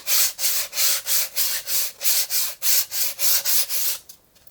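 Sandpaper rubbing the edges of a painted wooden toy box, about a dozen brisk, even back-and-forth strokes close by, then a stop.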